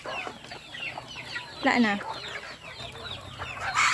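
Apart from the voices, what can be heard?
chickens clucking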